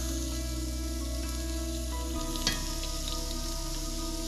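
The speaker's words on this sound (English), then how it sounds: "If that's not the sizzle you want, take it off." Fish fries in a pan at a soft, steady sizzle, heard close and fairly quiet, with one brief sharp crackle partway through and a low background hum.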